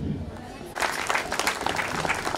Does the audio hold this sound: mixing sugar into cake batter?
no